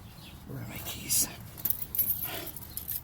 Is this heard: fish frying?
no